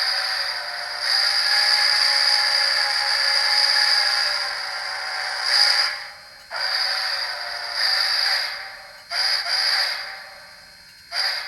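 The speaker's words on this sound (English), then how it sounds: "F2 blows the whistle." A sound-decoder steam whistle from an HO scale Athearn Genesis Union Pacific 4-6-6-4 Early Challenger model locomotive sounds with one long sustained blast, then several shorter toots with brief gaps between them, loud and close with no talk.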